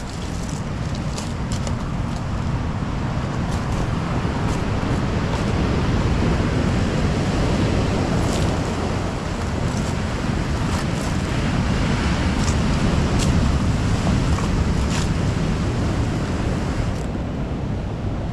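Surf breaking against the shore at Marsden beach, South Shields, near eroded old concrete, roaring continuously and loud throughout with heavy wind rumble on the microphone and no voices.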